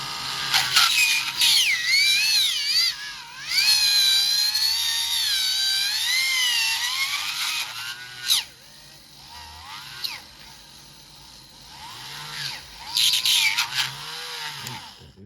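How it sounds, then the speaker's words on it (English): High-pitched whining rotary tool with a cutting bit that rises and falls in pitch as it drills out glue on a plastic scale model car, in several bursts with brief pauses between. "So we're going to drill all that out next."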